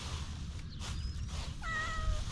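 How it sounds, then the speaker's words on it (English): A domestic cat meows once near the end, a short rising-falling call close to the microphone, heard outdoors in a garden over low steady background rumble with no talking. "Oh, kitty, what are you doing?"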